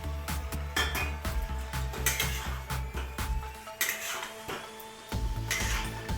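Potatoes going into a pot of simmering Bengali chicken curry, a string of metal clinks and spoon knocks against the pot at irregular spacing, close and moderately quiet, with a faint hum underneath and no voices.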